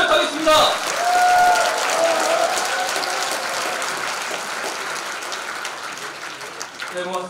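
Audience applause opens a Democratic Party presidential candidate's invited lecture in Nowon-gu, a dense, steady wash of clapping from a hall crowd lasting throughout, with a voice briefly heard near the start.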